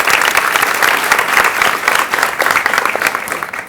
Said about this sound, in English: he deserves, I think, a big round of applause